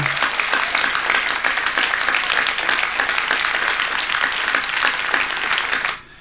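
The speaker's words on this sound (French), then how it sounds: "on peut l'applaudir très fort" Audience applause for an improvisation show contestant, a dense, even burst of clapping lasting about six seconds before cutting off.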